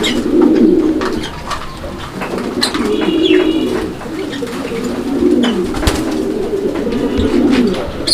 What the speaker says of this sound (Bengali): আপনারা দেখেন যে কবুতরটা আসলে কীরকম ডাকে